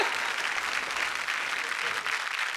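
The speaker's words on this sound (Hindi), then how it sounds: "मैं जोरदार तालियों के साथ" A comedy-poetry show audience gives loud, steady applause, a dense continuous wash of clapping lasting a few seconds with no break.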